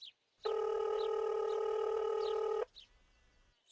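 A steady electronic telephone tone sounds for about two seconds, with short beeps before and after, quiet and alone.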